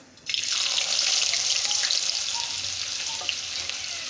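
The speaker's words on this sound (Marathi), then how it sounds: "आता यात घालायचा आहे बारीक चिरलेला कांदा" Finely chopped onion drops into hot oil with popped mustard seeds and cumin for a sprouted matki bhaji, setting off a sudden, loud, continuous hiss that stays steady and close and then eases slightly.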